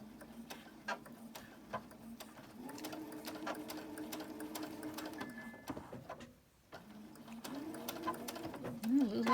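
A sewing machine stitching quilt blocks, running in several bursts of fast, even whirring with short pauses and a brief stop between runs, close and fairly quiet.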